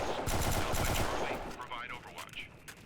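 Rapid automatic gunfire in the video game Delta Force Xtreme bursts loud for about a second, then fades into quieter scattered shots and game effects.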